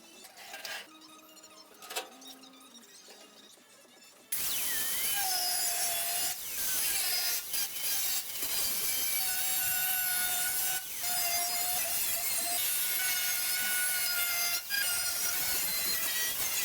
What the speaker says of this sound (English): I've cut about 3/4 of an inch off the bottom of the valance panel that I put in